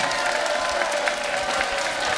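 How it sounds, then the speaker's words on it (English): Dense, steady applause from a boxing crowd saluting both main event fighters in the ring, a continuous wash of clapping filling the whole moment. "please put a big round of applause together for both of your main event fighters in the center of the ring"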